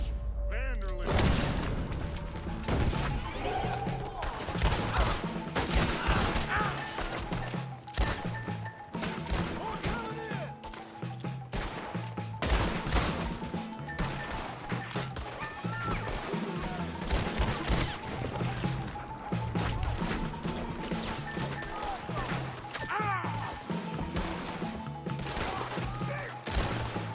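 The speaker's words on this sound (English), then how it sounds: "Not a good pistol for a long-range shootout." Pistol gunfire during a long-range shootout in Red Dead Redemption 2, with rapid, dense volleys of shots and booming impacts layered over game sound for the whole stretch, loud and continuous.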